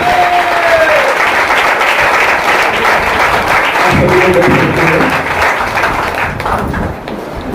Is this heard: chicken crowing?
no